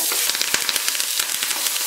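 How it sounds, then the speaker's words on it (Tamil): Mustard seeds and urad dal crackle and splutter in hot oil for Chettinad kuzhi paniyaram, a dense run of sharp pops over a steady sizzle, close by with no voices. "இப்போ கடுகு உளுத்தம்பருப்பு நல்லா பொரிஞ்சிருச்சு"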